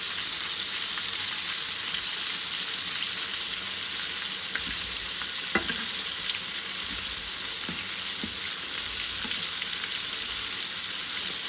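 Restaurant-style crispy chicken popcorn deep-frying in oil, a dense, constant close-up sizzle with occasional sharp pops, steady throughout with no talk.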